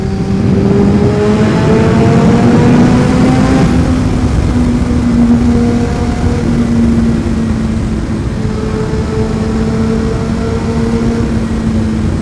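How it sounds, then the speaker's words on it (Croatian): A Yamaha motorcycle engine running close and loud, a steady rumbling idle with a slight rise and fall in pitch, continuous throughout with no talk. "Da slušamo malo kako se čuje Yamaha."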